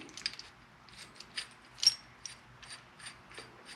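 A puller being screwed into the blinker trim bracket on a Vexus AVX1980 boat produces quiet, close ratchet clicks in short bursts at an irregular pace, with light metallic rattles in between.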